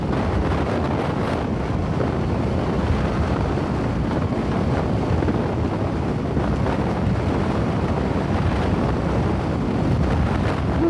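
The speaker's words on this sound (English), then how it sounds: "It's really windy." Strong wind roars across the microphone on a motorcycle ride over Vasco Road, a loud, continuous low buffeting rumble with gusty swells and no speech.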